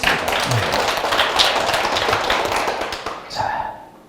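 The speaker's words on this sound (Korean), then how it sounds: "박수로 마무리하도록 하겠습니다" An audience at a university CEO-program lecture breaks into sustained applause of dense overlapping claps, steady and loud for about three seconds before thinning out, with a few voices rising near the end.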